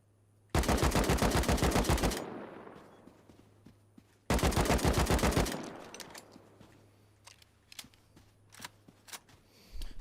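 Two long bursts of rapid automatic gunfire in the game Rust, loud and close, each followed by a decaying echo, then scattered faint clicks and distant shots.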